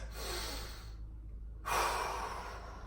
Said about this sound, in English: And take some big breaths.